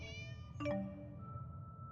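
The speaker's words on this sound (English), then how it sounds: "There's the cat." A cat meows once in the Tales of Xillia 2 video game, a short clear mew over steady game background music.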